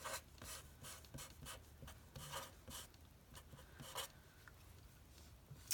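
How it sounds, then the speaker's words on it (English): A pen scratches across paper while an algebra equation is written out in factored form, a quiet, close rhythm of short strokes and scribbles with small pauses between them. "Now I'll write the equation in factored form."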